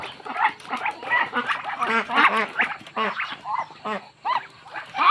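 Ducks quack in a busy, overlapping chorus of nasal calls, close by and steady throughout, with no talking.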